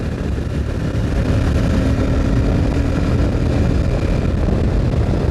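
A Royal Enfield Super Meteor 650 cruiser motorcycle pulls ahead down a straight road, its engine a loud, steady roar blended with heavy wind rush and no voices.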